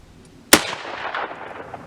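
A single loud gunshot from a test firing cracks sharply and close, then decays into a rolling echo that fades over the next second and a half.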